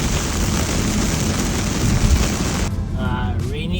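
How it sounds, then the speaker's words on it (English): Heavy rain drums loudly and steadily on a Tesla Model Y Long Range AWD driving near Damansara Heights, Malaysia, then the roar abruptly drops to a softer patter as a voice briefly speaks. "Raining."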